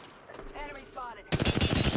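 Rapid gunfire bursts from a first-person shooter video game, loud and dense, erupting suddenly after a stretch of quieter game audio with some voice-like callouts.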